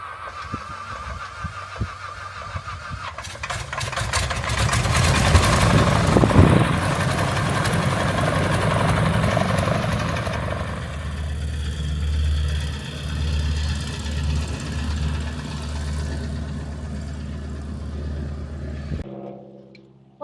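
A Stearman biplane engine starts and settles into a steady, loud nearby idle, its low rumble rising in the first seconds and holding evenly before cutting off at the end.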